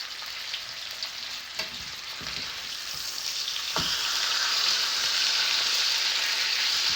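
Pork chops sizzling in a frying pan: a steady, bright crackling hiss that grows slightly louder over several seconds, with a few soft knocks of the pan, and no talking.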